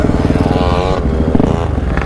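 Supermoto motorcycles at a big bike meet revving loudly and close by, a throaty, pulsing engine roar that rises briefly, with no talk over it.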